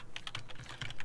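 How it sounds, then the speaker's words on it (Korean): A computer keyboard gives a short run of soft, close key taps, quick irregular clicks like spacebar and Enter presses, with no talking. "스페이스바 한번 치고 엔터 누르면 됩니다"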